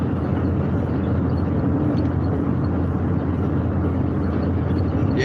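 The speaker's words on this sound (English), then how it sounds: "Traffic rolling through here tonight." Steady broadband rumble of road traffic rolling past at night, a continuous wash of vehicle noise with no distinct pass-bys standing out and no talk.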